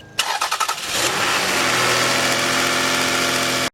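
A Toyota/Lexus V6 engine cranks briefly with rapid chugging, catches and settles into a loud, steady idle close by, freshly reassembled after timing belt and water pump work, then cuts off abruptly.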